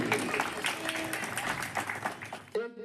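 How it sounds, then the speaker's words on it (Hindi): A crowd at a women's empowerment foundation event claps vigorously for the foundation, a dense, moderately loud patter that cuts off abruptly just before a voice begins speaking. "एक बार जोरदार तालियां उसी फाउंडेशन के लिए"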